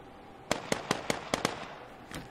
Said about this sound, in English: We got AK fire.